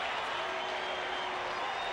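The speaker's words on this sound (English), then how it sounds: "you really hear from the Boston fans here in Oakland" Boston Red Sox fans cheer and applaud in the Oakland stadium during a baseball game, a steady distant crowd roar of thousands.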